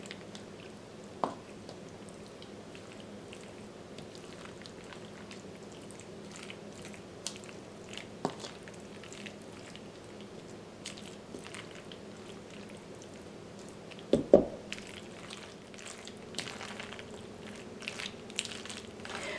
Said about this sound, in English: Stir all the ingredients until well blended.